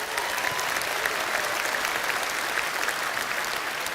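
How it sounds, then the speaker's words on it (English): A crowd at a political party conference in Birmingham delivers steady applause, a dense wash of many hands clapping at an even level from start to finish. "Everyone involved in branches, give yourself a round of applause."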